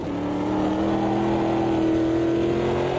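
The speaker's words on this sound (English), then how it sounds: "And V8 engines sound cool." A V8 GT race car engine in the racing game Automobilista 2 hums steadily with a sustained tonal drone, smooth and continuous, slightly rising in pitch, with no voices.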